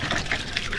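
Water gushes from Mura's pump in a steady, close, broadband rush that lasts under a second with no voices.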